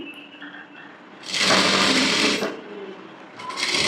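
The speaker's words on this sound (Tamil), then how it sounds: "இப்போ ஒரு பேக் ஸ்டிச் போட்டு ஸ்டார்ட் பண்ணுறேன்." A sewing machine puts a back stitch into a blouse hem: quiet handling at first, then a loud burst of fast whirring stitching for about a second, a pause, and a second run starting right at the end.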